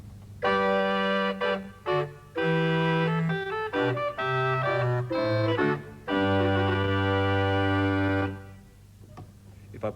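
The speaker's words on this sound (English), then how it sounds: "I could play the same music on a reed and it would sound quite different" A pipe organ voiced with a reed stop plays a buzzy, bright phrase of held chords and moving notes, a few short breaks between phrases, ending in a long sustained chord.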